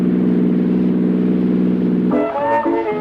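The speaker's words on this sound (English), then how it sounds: "here's the sound of knock-free power that saves you money" A car engine running on Atlantic Imperial gasoline holds a loud steady hum, then rises into a higher revving note with shifting pitch before settling briefly.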